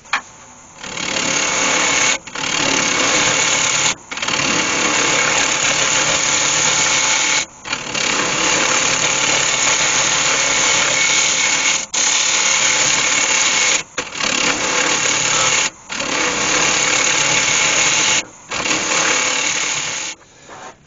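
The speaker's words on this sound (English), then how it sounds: "I'll just use my hollowing tool just to come across there." A wood lathe turns a beech bowl while a hollowing tool cuts across the centre, producing a loud, steady whirring scrape. It breaks off in several short gaps as the tool lifts, and there is no talk.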